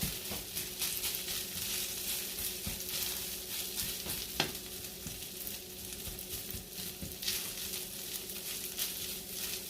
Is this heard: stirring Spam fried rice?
yes